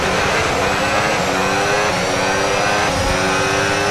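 An F1 racing car engine in a Formula 1 video game revs loudly and steadily with layered harmonic whine, racing during a career race in China, with no voices.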